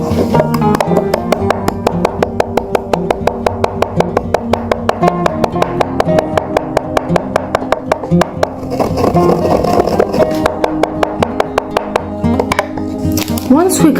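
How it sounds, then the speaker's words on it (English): A grinder crushing aspirin tablets into fine powder makes a loud, rapid run of regular clattering pulses, with a rougher churning stretch near the end. "Place it into a grinder and crush it fine."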